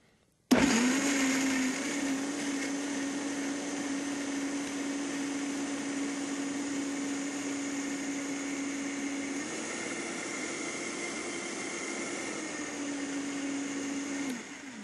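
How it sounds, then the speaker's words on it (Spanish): An electric blender switches on abruptly and whirs steadily for about fourteen seconds while blending salsa ingredients for barbecue, its motor pitch shifting slightly partway through before cutting off. "Y la licuamos."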